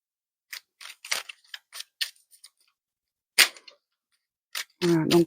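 A deck of tarot cards is shuffled and cut, giving a string of crisp, close snaps and riffles with pauses between, followed by a short stretch of speech at the end.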